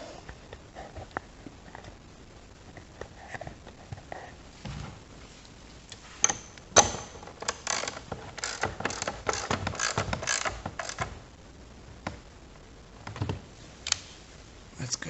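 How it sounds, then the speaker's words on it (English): A ratchet tightens a car battery terminal on a 2015 VW Jetta TDI, with quick bursts of close mechanical clicking and short pauses between bursts, no talking over it. "once I get it snug, I'll get the ratchet, tighten up the rest of the way."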